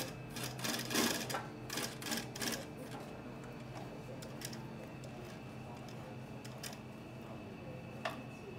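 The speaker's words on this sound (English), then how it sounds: "she's able to use the sewing machine to do all the sewing of all the" A sewing machine stitches leather pieces at the Scuola del Cuoio leather school, giving quiet rapid ticking and clattering runs over a steady low hum in a room with background murmur.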